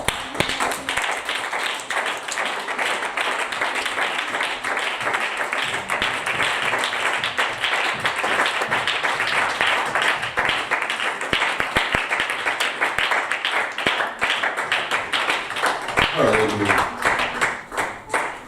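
Church congregation clapping and cheering in acclamation during a worship service, a dense, loud, continuous wash of applause across the whole stretch with voices mixed in.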